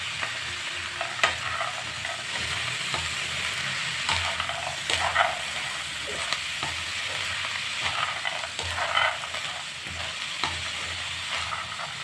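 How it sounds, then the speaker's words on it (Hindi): Chickpeas and cabbage fry in a pan while being stirred, with a steady close sizzle broken by intermittent scrapes and clicks of the spoon, and no talking. "अब एकरा में डाल दे हम चना। चना के भी कुछ देर तक ले पत्ता गोभी के साथ हम फ्राई कर ले हैं।"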